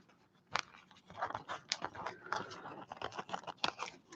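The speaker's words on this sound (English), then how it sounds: "I'm going to take a sandwich bag with the proper scissors." Proper scissors snip through a plastic sandwich bag with a quick series of crisp, close cutting clicks and rustles, irregular in rhythm, heard alone.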